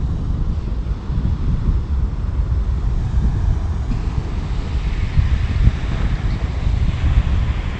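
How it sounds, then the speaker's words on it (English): Ocean surf rolling onto an exposed, rough beach, a continuous low roar of breaking waves mixed with strong wind buffeting the microphone, loud and steady throughout. "There's some monster waves coming in."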